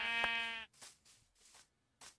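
Blocky Minecraft sheep bleat, one clear drawn-out baa up front followed by a few softer scuffing game sounds, close and moderately loud with no talking.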